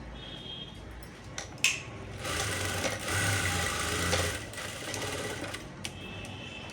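A sewing machine stitches a blouse, its motor running in a steady mechanical whir for a few seconds with short pauses and small clicks at the start and end, close by with no talk.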